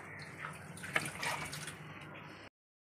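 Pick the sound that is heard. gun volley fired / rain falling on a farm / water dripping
water dripping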